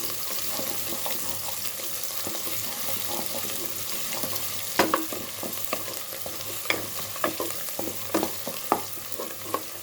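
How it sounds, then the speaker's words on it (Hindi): Garlic ginger paste sautéing in a pan, a steady sizzle and frying hiss with scattered scraping and stirring clicks from a spoon, close and moderately loud, for an aloo gosht (meat and potato curry) preparation. "तकरीबन 1 टीस्पून लहसुन अदरक का पेस्ट भी शामिल कर रहे हैं। और इसे हमने हल्का सा सौते करना है।"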